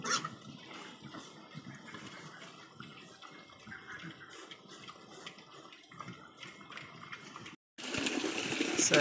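Water runs and splashes steadily into a pig drinking trough, faint at first, then briefly cuts out before returning louder and more forceful near the end.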